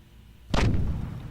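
A flak cannon firing in the Empyrion game: a single sharp, heavy blast after a quiet hum, its boom trailing into a short low rumble, close and loud.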